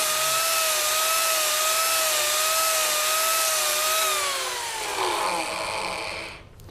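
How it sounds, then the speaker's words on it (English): Mini turbo rotary carver spinning at high speed while removing wood freehand, a loud steady whine with harmonic tones that drops in pitch near the end, then cuts off abruptly. "the mini turbo can be used for completely freehand work, just to remove wood wherever you want"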